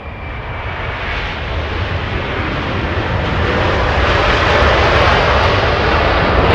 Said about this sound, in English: Incredible sound. And we go for Southwest departure now.